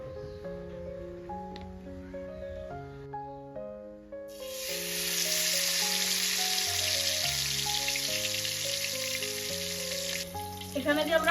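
Salted, turmeric-rubbed katla fish pieces hit hot mustard oil and break into a loud, continuous sizzle that starts partway through and keeps going, with melodic background music throughout.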